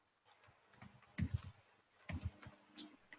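Keys on a computer keyboard clack as a single word is typed, with two quick bursts of close, moderately loud keystrokes and a few lighter taps between them.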